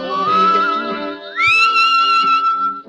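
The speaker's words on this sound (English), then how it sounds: "that's whistling" A person whistles a bright, sustained tune up close, the pitch sliding upward partway through and holding steady, with no talking.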